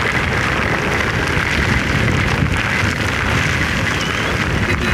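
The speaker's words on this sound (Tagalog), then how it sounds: "Dapat ganyan kalakas yung ulan." A heavy downpour roars as a dense, unbroken hiss, loud and steady throughout with no voices.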